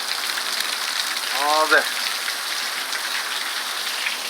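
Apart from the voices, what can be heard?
heavy rain pouring in Arizona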